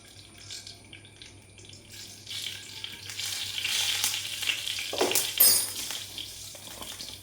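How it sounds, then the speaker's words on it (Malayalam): Fenugreek seeds fry in coconut oil in a pan, making a soft, steady sizzle that builds slightly in the middle with a few sharper crackles near the end. "കുറച്ച് വെളിച്ചെണ്ണ ഒഴിച്ച് കൊടുത്താൽ കാണാം ഞാൻ കടുകല്ല കേട്ടോ പൊട്ടിക്കണേ ഉലുവയാണ് പൊട്ടിക്കണേ"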